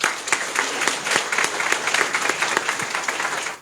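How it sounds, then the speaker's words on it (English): A crowd at a Miss Pacific Islands pre-pageant interview event applauds the pageant judges with a full, steady wash of clapping that stays loud for a few seconds and then cuts off sharply. "Please give them a round of applause."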